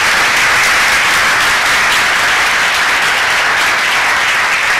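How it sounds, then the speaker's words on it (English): Conference audience applauding at a green event, steady loud clapping that fills the whole stretch without a break. "I'd like you all to give them a fantastic round of applause for knowing"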